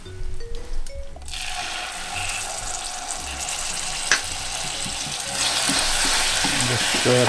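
Sesame snap mixture with vanilla added, stirred in a hot pan, giving a steady close sizzling, bubbling texture that swells louder toward the end, with no talk over it.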